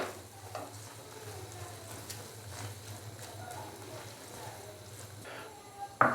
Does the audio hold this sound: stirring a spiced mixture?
yes